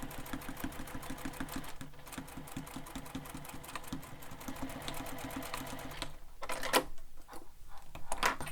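A domestic sewing machine stitches a seam on a sling pack panel, running in a steady, rapid mechanical chatter with a brief pause, then harsher clicking and thumps near the end.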